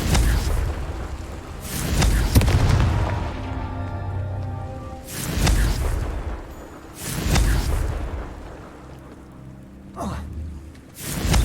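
Repeated fiery blasts of the Confringo spell in the game Hogwarts Legacy: several loud booming bursts a couple of seconds apart, each with a rumbling, crackling tail that fades before the next hit.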